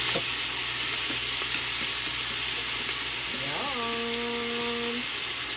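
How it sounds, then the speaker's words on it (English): A steady, close sizzle of garlic frying in a pan, a constant hiss with a few small pops, and a brief whining tone near the end. "You can hear that sizzling, guys"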